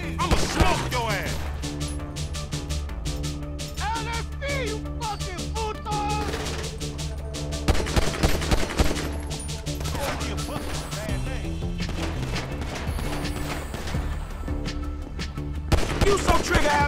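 Rapid bursts of gunfire from a GTA V shootout crackle over a dense game soundtrack, repeated close shots and crashes running throughout, with voices talking over the action.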